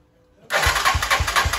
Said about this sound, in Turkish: Ayak marşı vur.